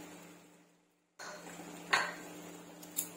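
A spoon stirs dry fruits into double ka meetha in a pan, with a couple of faint metallic clinks and scrapes after a brief silence, all quiet and close.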